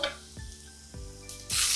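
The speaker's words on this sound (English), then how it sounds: "Just saute it for a minute." Ginger, garlic and green chillies sauté in a hot pan with browned onions, giving a few scraping stirs over a low sizzle that swells into a loud hiss near the end.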